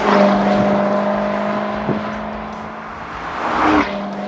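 A 2016 Jaguar F-Type SVR sports car driving, a steady engine drone with a sustained tonal hum, swelling briefly as it revs, heard up close with no talk.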